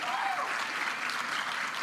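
A crowd at a professional pickleball match claps steadily, a continuous, fairly soft patter of applause heard from a distance with faint voices mixed in.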